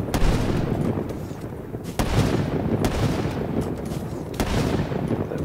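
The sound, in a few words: gunfire in Call of Duty Black Ops 3 (video game)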